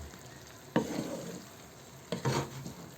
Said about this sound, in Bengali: এই যে গরম মশলাটাকে আমি মিশিয়ে ফেললাম